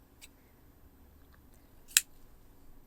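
Scissors snip through two rubber-banded sponges, giving a faint early cut and then one sharp, close, crisp snip in an otherwise quiet room.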